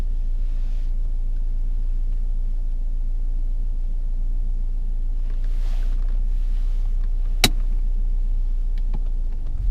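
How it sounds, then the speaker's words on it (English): A petrol car's engine hums steadily at low revs from inside the cabin while the driver works the gas and clutch, with a single sharp click partway through and no talk. "Gas and clutch work and that."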